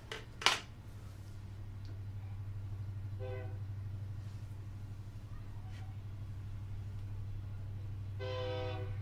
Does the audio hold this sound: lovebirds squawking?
no